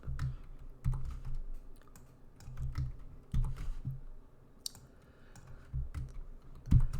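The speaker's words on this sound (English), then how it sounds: "Alt Shift left arrow key is going to ungroup." Keystrokes on a computer keyboard tap out a shortcut in scattered clicks and short clusters, close and fairly soft, with no voice.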